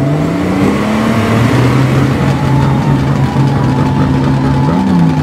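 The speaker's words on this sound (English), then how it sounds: "Get your engines started and ready to go." Race car engines running in a Hot Wheels racing scene, a loud, steady roar with wavering whine tones, continuous and close.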